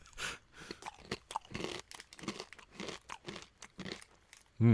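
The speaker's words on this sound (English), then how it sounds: "Love Corn, smoky premium crunchy corn snack, smoked barbecue." Someone bites and chews Love Corn, a smoked barbecue crunchy corn snack, making sharp, close, irregular crunches that end in a louder thump.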